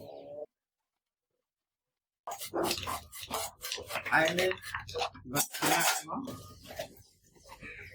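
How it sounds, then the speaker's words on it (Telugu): Dishes and utensils clatter and clink in quick, irregular bursts after a short silence, close by, with some voices faintly mixed in. "గిన్నెలు కూడా ఎలా కడుగుతున్నారు చూడండి"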